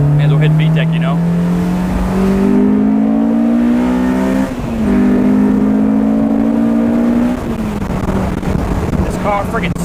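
A Honda S2000 on a rough road revs hard, its rising engine note climbing steeply into VTEC and screaming, loud and sustained, with a brief shift dip and wind buffeting over the microphone.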